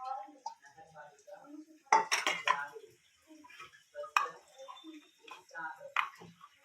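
A spoon clinks and scrapes against a pot while curd is stirred into mor kuzhambu, with irregular close knocks, a few sharper clatters and quieter rustling between them.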